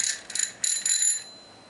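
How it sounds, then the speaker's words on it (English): A bicycle bell rings in several quick bursts of bright metallic trills, close and clear, fading out toward the end with no talking. "That's a bell."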